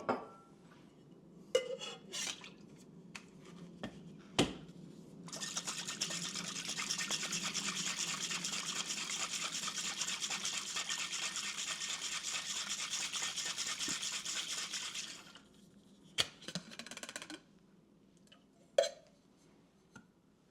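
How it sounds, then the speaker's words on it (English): Holiday cocktail with crème de cacao being dry shaken in a cocktail shaker without ice, a steady rattling swish running about ten seconds at close range, bracketed by a few sharp knocks and clinks. "Dry shake."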